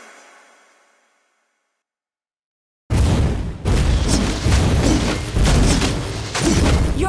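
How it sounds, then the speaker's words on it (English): A turret is destroyed in Baxia jungle gameplay of a mobile MOBA: after a second of fading sound and near silence, loud booming impacts and crashes arrive in a dense rhythmic burst. "Your team destroyed the turret!"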